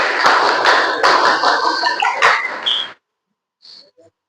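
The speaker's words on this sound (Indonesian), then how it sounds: "Tepuk Pramuka." A group performs the rhythmic Pramuka Scout clap, loud, close bursts of hand claps in a patterned beat that stop abruptly, followed by a brief pause and a couple of short voiced calls.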